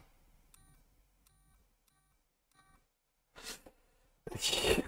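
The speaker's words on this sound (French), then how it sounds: "quand tu appuies sur le klaxon" A toy replica of a Tesla Cybertruck sounds its horn: a few thin electronic beeps in a quick pattern, then a short burst and a louder, brighter blast at the end, close and with no talk.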